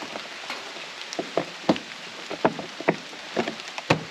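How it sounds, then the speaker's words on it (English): Rain falls outdoors in a garden beside a solar and water setup, steady background hiss broken by irregular, close drips and taps on wood or plastic surfaces, no voices present. "So yeah, it's raining right now."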